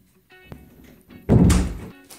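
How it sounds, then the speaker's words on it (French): A door is shut indoors during a French hair-care routine, giving one loud, close thump with a short rumbling tail after some soft handling noises. "Mais ferme la porte, c'est bien."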